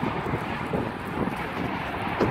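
Cold wind blows steadily across the microphone outdoors, a continuous broadband rumble and rush with small gusts, close and fairly loud, with no clear talk.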